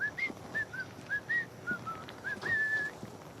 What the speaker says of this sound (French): C'est qui le con qui siffle?